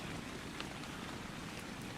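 Steady rain falls in the Ark: Survival Evolved game world, an even, continuous hiss of drops with no break and no voices, soft and diffuse.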